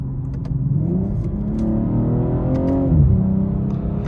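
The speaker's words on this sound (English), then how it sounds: "the pops on the upshift are fantastic" A 2022 BMW M240i engine revs steadily from inside the cabin during a drive, its drone rising in pitch, then dropping sharply at a quick gear shift and climbing again.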